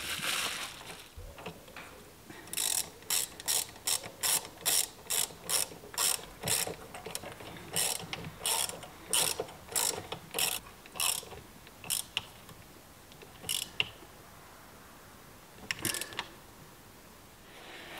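A hand ratchet tightens the Torx bit bolt at the centre of a car steering wheel hub, giving a run of sharp, evenly spaced clicking bursts close to the mic, then a few scattered clicks after a pause.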